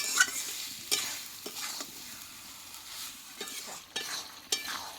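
Chicken with homemade spices frying in a pot over a clay stove, stirred with repeated scraping strokes and soft sizzling, moderately close with no talk.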